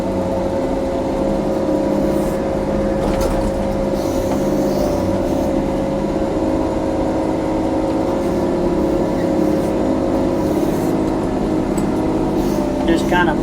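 A John Deere 624G wheel loader with a 4-yard bucket and new motor pushes into a row of topsoil, its engine droning steadily and loudly throughout with a constant mechanical hum; someone talks over it.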